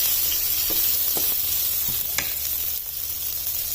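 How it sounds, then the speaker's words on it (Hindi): Red capsicum frying in a pan for chicken jalfrezi, a steady close hiss with a few soft scrapes and taps as a spoon stirs it, no voices. "रेड कैप्सिकम ये भी 1 डालनी है, साथ साथ चम्मच भी चला लेना है।"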